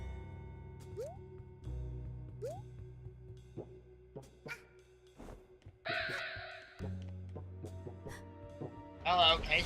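Crows cawing in the video game A Hat in Time, a few short rising calls over layered game music and effects, with player talk around them.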